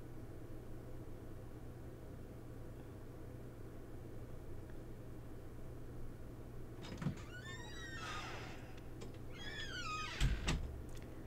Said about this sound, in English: If you guys hear the door opening and closing, I am so sorry.